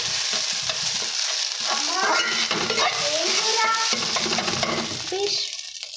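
Fish egg fry sizzling loudly in a pan while being stirred, with a dense steady hiss and scraping strokes throughout, plus a few squeaky, wavering tones that rise and fall near the end.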